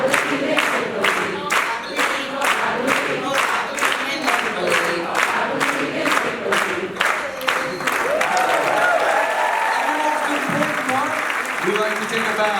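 Audience applause rings out through a theater during a Broadway appearance, a steady wash of clapping that surges and holds, with voices and cheers rising within the crowd toward the end.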